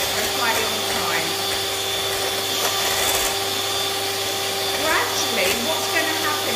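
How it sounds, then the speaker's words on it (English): A steady electric whir of eggs and sugar being whisked for a gluten-free Swiss roll runs loud and unbroken throughout, close by. "If you want it to be nice and airy, you really need to whisk for quite a long time."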